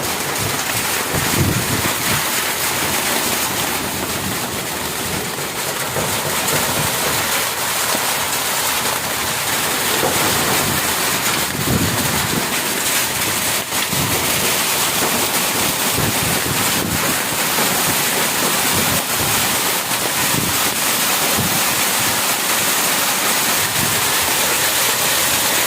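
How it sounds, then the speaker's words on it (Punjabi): Heavy stormy rain, mixed with hail, pours down on a village, a dense, unbroken roar of downpour with gusting wind buffeting the microphone throughout, loud and close with no voices. "ਬਾਰਿਸ਼ ਬਹੁਤ ਤੇਜ਼ ਹੈ ਤੂਫਾਨੀ ਬਾਰਿਸ਼ ਹੈ"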